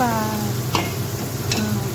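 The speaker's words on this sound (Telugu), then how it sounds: "ఈ నూనెలోనే వేయించేస్తున్నాను" Oil sizzles close by as prawns fry, with a couple of sharp utensil clicks and a brief tonal hum at the start.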